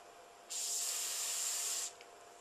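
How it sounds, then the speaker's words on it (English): A single spray of Teflon lubricating oil from an aerosol can, a steady high hiss lasting over a second before cutting off, in a quiet room. "when I lubricate with FinSuper, our Teflon spray oil"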